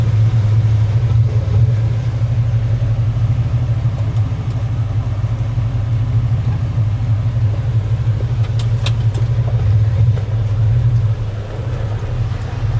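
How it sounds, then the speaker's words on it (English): Pickup truck engine fitted with a ProFlow fuel system, running while driving: a continuous deep, loud rumble that stays steady throughout, with slight swells and no talking. "the truck's back running and I'm actually driving it"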